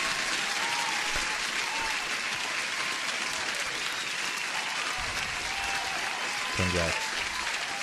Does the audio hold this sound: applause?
yes